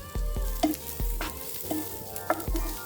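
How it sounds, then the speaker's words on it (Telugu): Onions fry in oil in a pan with a steady sizzle, while a spoon stirs them in regular scraping strokes for a stuffed masala brinjal dish. "ఇప్పుడు వేగిందండి ఉల్లిగడ్డ, తీసుకుందాం."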